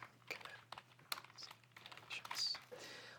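Computer keyboard typing by someone editing video produces a quick, faint, irregular run of key clicks with no talking.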